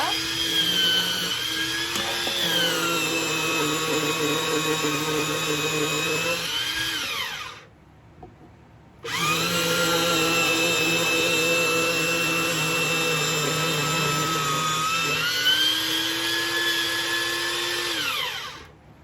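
A salad processor grater shreds carrot in two loud, continuous motor whirs with a short pause between them. Near and steady, with no talking over it.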